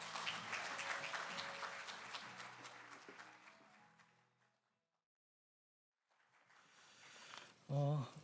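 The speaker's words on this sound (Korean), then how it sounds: "힘찬 박수 부탁드리겠습니다" An audience at an opening ceremony applauds steadily, the clapping fading to silence midway, then a fresh round of applause swells up near the end.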